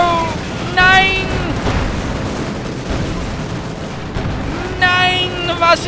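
Katyusha rocket artillery firing in Company of Heroes 2, a loud rumbling barrage of booms and whooshing launches mixed with in-game battle noise, overlaid by speech.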